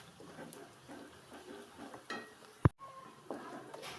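A pan of tempering with salt for leftover rice is stirred and fried with a soft sizzle and spatula scrapes, then a single sharp metallic clank partway through.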